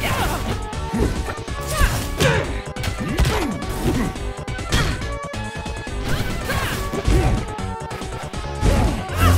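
Fighting game Rivals of Aether 2 with repeated heavy smash and whack impacts from up smash attacks over busy game music and effects, loud and dense.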